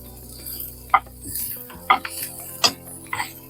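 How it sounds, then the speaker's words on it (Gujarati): Carrots, onion, peas and capsicum with whole garam masala sauté in oil in a pan, heard as a few sharp spoon clinks and scrapes over a soft, low frying hiss. "સાથે સાથે ગાજર છે, સાથે સાથે ડુંગળી, વટાણા, શિમલા મિર્ચ, અને હવે થોડીક વાર એને તેલમાં સાતળી લઈ"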